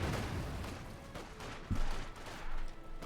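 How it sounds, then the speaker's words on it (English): Mortar fire in the World War II strategy game Company of Heroes 2: several sharp blasts within about three seconds, including a louder thump midway, over constant battlefield rumble and gunfire, with no talking. "Mortar firing away there."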